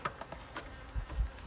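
Bees buzz close by at an open hive in short bursts against a low background hum, with a few soft thumps near the end.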